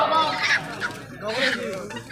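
Chickens call at an auction held during a religious gathering, with loud, harsh squawks and clucks in quick bursts close by and a busy crowd murmuring underneath.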